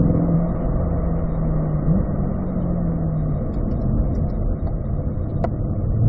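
Race car engine on a track, a steady loud drone with pitch sweeps as it accelerates and shifts gears.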